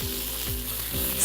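Two big handfuls of spinach fill a frying pan, hissing and sizzling as they wilt, with a few soft stirring scrapes under the constant fry noise.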